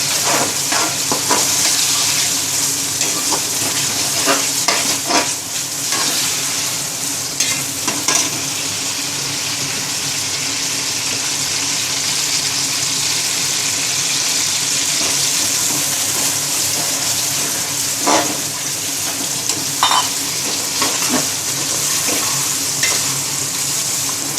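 Browned onions and tomatoes frying in a pan for chana pulao, a loud steady sizzle lasting throughout, with scattered scraping and stirring knocks against the metal, close up and with no voices.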